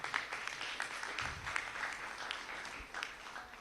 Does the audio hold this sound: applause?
yes